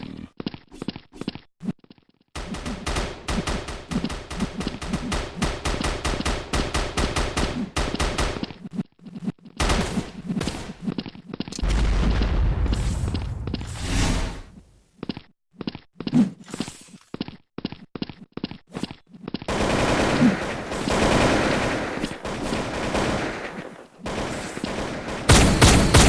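Dame shotgun fired in a video game, repeated rapid blasts in long bursts separated by short pauses, close and loud with clatter between volleys.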